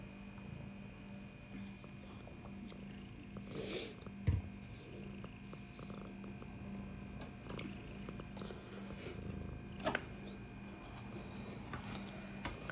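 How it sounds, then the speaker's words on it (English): A soft, continuous cat purr rumbles close by, low and steady, with a few faint ticks and rustles over it. "Could you hear it? A little purring."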